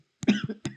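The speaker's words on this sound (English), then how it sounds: "I cough." A man coughs up close a couple of times, short rough bursts close together with a brief pause before the last one, during a card game session.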